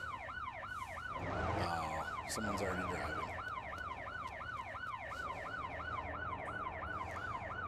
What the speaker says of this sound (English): accidentally, I left my siren on